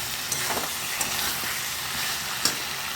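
Chicken pieces sautéing in oil for chicken rezala give a steady, fairly soft sizzle and hiss with a few small pops and stirring clicks, close by and alone without speech.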